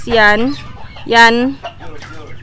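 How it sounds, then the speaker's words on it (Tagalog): A Shamo breed native rooster clucks loudly and close by in two strong bursts, with someone speaking briefly in between. "yan yung aming tandang"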